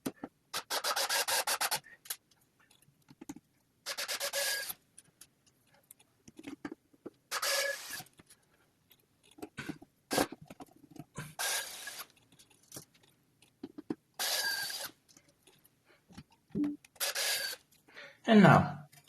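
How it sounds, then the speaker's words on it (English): Screws being driven back into the casing of an ASUS DGX Spark, heard as repeated short scraping, raspy bursts separated by pauses, close up, with brief faint handling noises between. "Screwing it back together is just the other way around"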